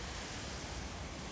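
Steady moderately heavy rain falling outdoors along a cross-country bicycle trail in South Korea, a continuous broadband wash at constant loudness with no talking.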